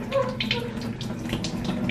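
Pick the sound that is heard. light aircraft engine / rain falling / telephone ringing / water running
water running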